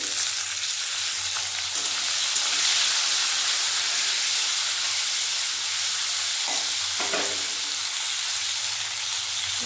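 Cut potatoes and yardlong beans fry with cumin in a pan for a vegetarian dish, giving a loud, steady, close sizzle and hiss throughout, broken by a couple of faint stirring scrapes.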